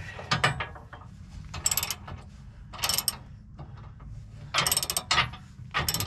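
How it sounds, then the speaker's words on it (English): A socket wrench ratchets while tightening a bolt on an aftermarket receiver hitch for a 2021 Ford Bronco, in short bursts of rapid clicking separated by pauses, close and loud. "And our socket wrench right here."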